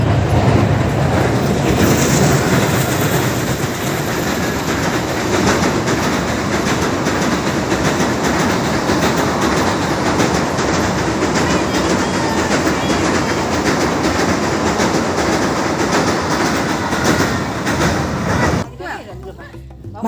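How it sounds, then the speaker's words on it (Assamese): A train passes close by a riverside picnic spot at Rangandi, Lakhimpur, a loud, steady rumble with rhythmic clickety-clack of wheels lasting nearly twenty seconds, with voices mixed in, before cutting off abruptly. "ট্ৰেইন আহি আছে।"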